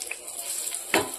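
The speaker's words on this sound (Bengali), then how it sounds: "এই যে বেগুনটা ভাজার জন্য বসিয়ে" Eggplant fries in a pan on a home stove for a vegetarian meal, a soft constant sizzle broken by a few faint clinks and one louder scrape near the end.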